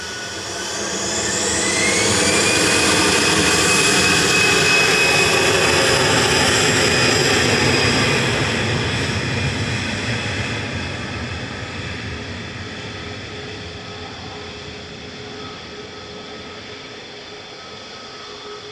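An easyJet airliner departs Manchester Airport, its jet engines rising to a loud, broad roar within a few seconds, holding strong, then slowly fading into the distance with no voices.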